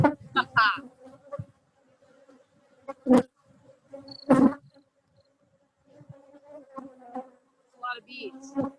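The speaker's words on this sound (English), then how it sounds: "A lot of bees." Honeybees swarm at an open hive during an inspection, giving a steady low buzzing throughout with sharp handling knocks and brief voices in the background.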